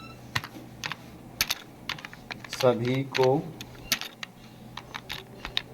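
Typing on a computer keyboard while entering text in Photoshop: quick, uneven clusters of close, crisp key taps spread throughout, with a short stretch of speech in the middle.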